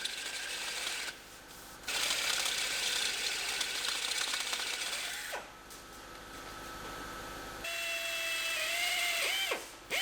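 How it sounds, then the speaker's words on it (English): Power drill with a step bit boring holes out in a 2020 Griffin dump trailer, three bursts of whirring and grinding separated by short pauses, the last ending in a rising whine. "We'll drill these holes out the rest of the way."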